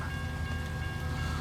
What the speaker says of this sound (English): watch this train come through